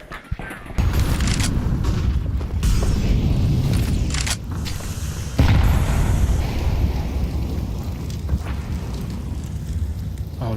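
A bomb detonates in a Counter-Strike match at the IEM Melbourne tournament, a heavy sustained roaring blast with booming bursts that swell again midway and fill the whole stretch.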